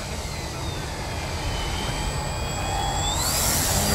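A Michael Wargo Addiction XL radio-controlled model airplane climbs in flight, its engine a steady whine that rises in pitch and grows slightly louder over several seconds, heard alone without talk.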